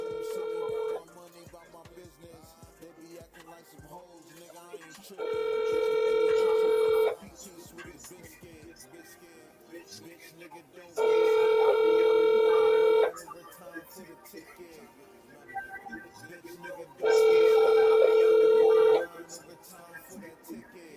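A telephone call rings out in repeated long electronic tones, three evenly spaced bursts about six seconds apart, loud and close, with quieter talk and room noise between the rings before the call goes to voicemail.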